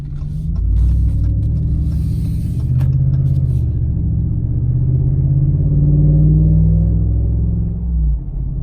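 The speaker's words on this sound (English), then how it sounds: "Gives you an idea of how the car sounds with no muffler and no 2 resonators." A loud, deep engine rumble from a 2019 Ram 1500 pickup with muffler and both resonators removed drones steadily close by, rising and falling slightly as the truck moves, with a raw, unmuffled growl.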